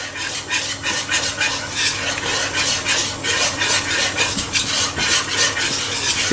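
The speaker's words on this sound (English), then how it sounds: "The whisk will just help make sure that there's no lumps" A whisk stirs a chicken pasta bake sauce in a pan, producing a rapid, rhythmic scraping and clinking against metal that continues steadily at close range.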